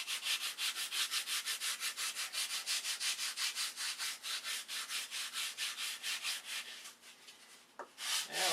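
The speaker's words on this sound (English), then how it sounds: "You want to put pressure on the sandpaper at the start and relieve the pressure in the center so that it's rolling towards the center." Sandpaper rubbed by hand along a wooden aircraft flap to shape an airfoil, a steady run of close, even, rhythmic rasping strokes that quickens briefly before a short pause near the end.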